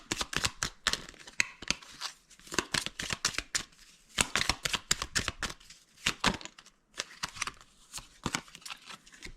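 Cards being shuffled and dealt during a French tarot-style reading, crisp riffling and snapping bursts in quick clusters separated by short pauses, close up and quiet.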